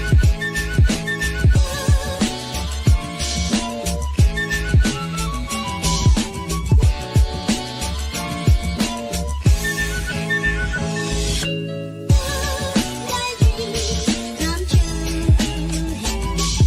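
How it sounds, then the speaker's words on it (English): A whistled melody carries over a punchy music bed at the opening of an ACC sports talk show, with bright sustained tones and rhythmic beats running loud and continuous for about seventeen seconds with no talk. "Love that whistle."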